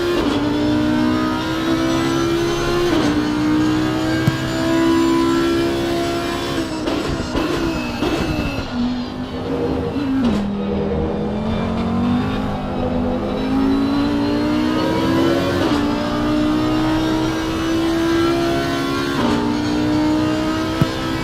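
An Audi GT3 race car engine in the racing game Assetto Corsa Competizione at Zolder holds a steady, loud, sustained drone with rising and falling revs, the pitch dipping and climbing through gear changes without a break.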